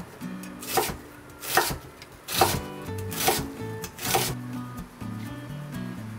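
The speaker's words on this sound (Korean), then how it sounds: "먼저 양파는 얇게 채 썰어주시고요" Onion being thinly sliced with a knife while preparing one-pan carbonara, heard as five evenly spaced, sharp knife strikes on a board over soft background music.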